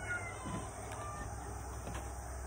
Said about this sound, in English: Chicken squawking it up this morning